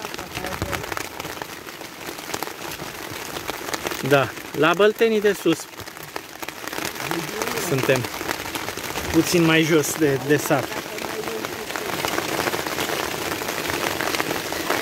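Steady heavy rain hisses across the whole clip, drumming on a surface, with people talking briefly over it, during a thunderstorm while out in a boat in the Danube Delta.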